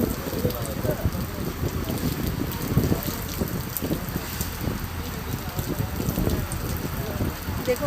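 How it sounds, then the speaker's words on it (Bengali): Rain falls steadily beside a Ganges river ghat as the water rises, a continuous close patter of drops on surfaces with faint wind, and no clear voices over it. "বৃষ্টি আরম্ভ হয়েছে।"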